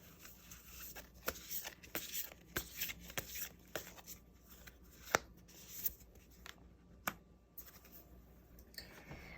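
Tarot cards being shuffled and drawn, quiet close crisp flicks and snaps of card stock coming in irregular bursts against a soft, near-silent room.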